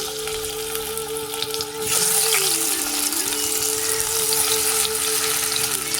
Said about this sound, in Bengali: এবারে আলুগুলো আমি ভেজে নিচ্ছি।